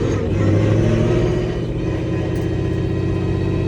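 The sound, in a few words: sports car engine pulling away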